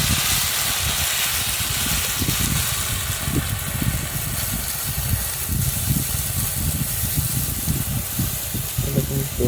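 Onion and ginger pastes with spices frying in oil over a clay stove for a curd rohu fish curry, a loud continuous hiss with rough crackling throughout.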